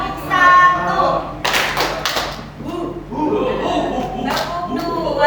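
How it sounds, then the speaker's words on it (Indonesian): Several sharp hand claps in a short rhythmic routine are demonstrated live in a school setting, close and loud, interleaved with a woman's speech and a few thumps. "tepuknya seperti ini, saya peragakan dulu"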